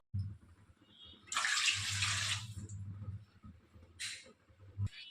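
Water is poured from a cup into a pan while making rava kesari. A steady splashing pour lasts about a second, followed later by a second brief splash, over a low background hum.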